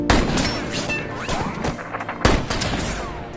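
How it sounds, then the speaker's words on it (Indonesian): A burst of loud gunshots, several sharp cracks close together, with a second strong shot shortly after amid echoing impacts. "melepaskan beberapa tembakan"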